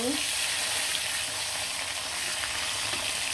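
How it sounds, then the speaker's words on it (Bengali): Steady, loud sizzling of river fish frying in hot oil in a pan continues without a break. "মাছটা ভালো করে ভাজা ভাজা হলে কিন্তু উল্টিয়ে দিব।"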